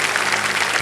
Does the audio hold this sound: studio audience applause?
yes